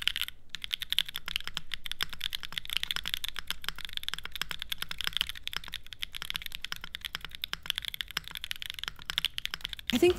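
Fast, continuous typing on a Mode Tempo mechanical keyboard fitted with factory-lubed Tomorrow switches and plate foam, dense crisp key clacks close up and steady throughout with no talk.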